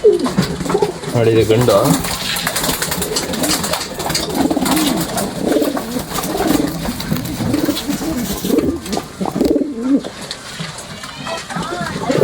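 Pet pigeons cooing nearby in a loft, soft repeated throaty coos mixed with rustling while someone talks over them throughout.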